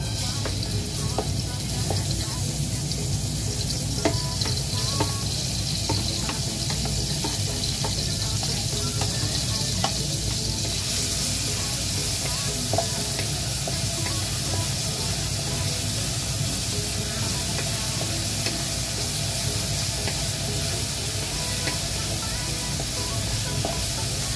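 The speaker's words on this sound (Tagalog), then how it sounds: "Gigisa muna tayo ng sibuyas." Onions sautéing in a pan give a steady, dense sizzle and hiss that runs unbroken, moderately loud, with faint scraping of stirring underneath.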